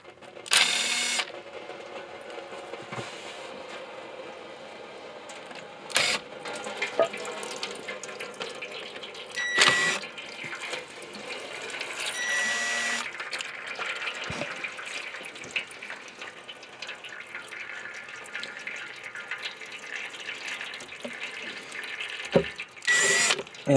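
Automatic transmission fluid drips and trickles from a loosened transmission pan, a close, continuous wet patter broken by a few sharp metallic clinks.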